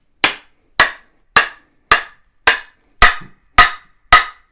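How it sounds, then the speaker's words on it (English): A steel axe is driven into a wooden rafter with eight sharp, evenly spaced strikes about half a second apart, each a loud, close crack that rings briefly and fades, with no talking in between. "See how far we're going to sink it this time"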